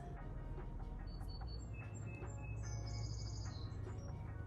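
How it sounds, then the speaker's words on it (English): Birds chirp and tweet in spring in short, high calls scattered across the clip over a steady low outdoor rumble, fairly faint and at a distance. "Oh, listen to the birds."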